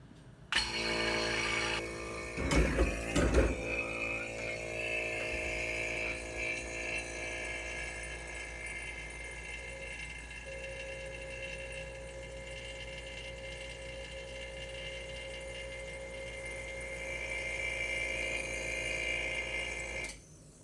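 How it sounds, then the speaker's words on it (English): A vacuum pump drawing the air out of a tube runs as a steady motorized drone with tonal hum. A short burst of rattling knocks comes near the start, then the pump holds a continuous even whine for the rest, with no talking. "what I could do with the vacuum pump is suck the air out of this tube"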